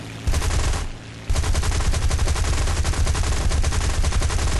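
A fighter plane's machine guns in the War Thunder video game fire in loud, rapid, continuous bursts, with one brief pause near the start before the steady rattling resumes and carries on to the end.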